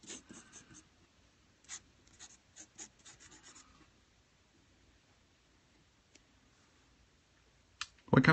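A Uni 0.3 mm HB mechanical pencil drawing on paper, fine scratchy strokes in short irregular bursts, close and quiet, with a pause of near silence before a louder rub at the end.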